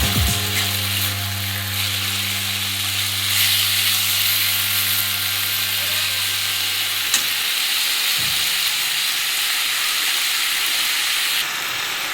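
Drumstick leaves with a pinch of sugar frying in a pan, a loud continuous sizzle and hiss with a low hum that stops partway through, close up.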